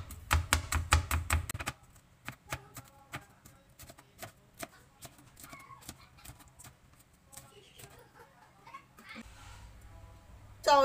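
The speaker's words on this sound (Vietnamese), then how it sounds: "Dùng hai trái ớt và cũng băm nhỏ nha cả nhà." Two chili peppers are minced with a knife on a cutting board, a quick burst of loud close chops followed by sparser, lighter taps, while a chicken clucks faintly in the background.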